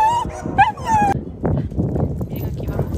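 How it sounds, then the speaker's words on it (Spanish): Small dogs on a neighbourhood street yip and whimper with high thin cries early on, then short barks and scuffling follow, fairly close, with a person speaking nearby. "Ahí vienen unos perritos."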